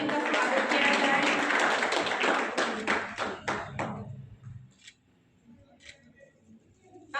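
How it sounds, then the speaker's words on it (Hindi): An audience at a women blood donors' honour ceremony in a hall claps loudly for a guest, sustained applause that thins into a few scattered claps and then fades to near silence. "जोरदार तालियों से इनका स्वागत किया जाए।"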